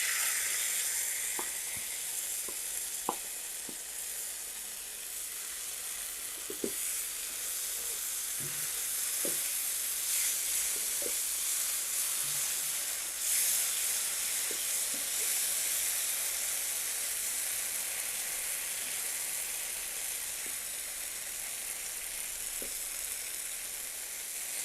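Garlic and oil sizzle steadily in a pan while frying for a Bangladeshi hotel-style tomato bharta, a constant close hiss with occasional light utensil taps and no talk.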